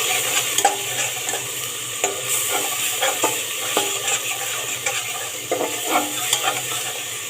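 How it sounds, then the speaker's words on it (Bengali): Ginger paste stirred into lightly browned onions sizzling in a pan for pea pulao, with steady frying hiss and repeated close scraping stir strokes, no voices. "পেঁয়াজগুলো হালকা বাদামি হয়ে গেছে, এখন আমি আদা বাটাগুলো দিয়ে দেবো।"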